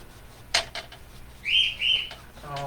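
Pet bird Holly chirps indoors in two clear, bright, sustained bursts that follow a few short clicks and knocks, with a brief low hum near the end.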